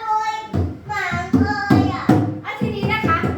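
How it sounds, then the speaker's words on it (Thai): Young children in a classroom clap for themselves in a quick, uneven run of close hand claps, heard under a voice as she talks over them. "ปรบมือตัวเองหน่อยค่ะ"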